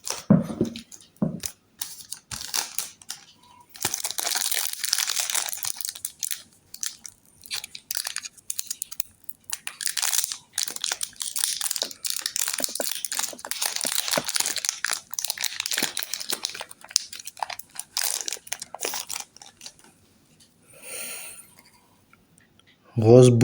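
Foil wrapper of a Pokémon booster pack crinkling and tearing open up close, a long run of bright crackling rustles with short pauses, then a brief quiet stretch before a voice speaks at the end.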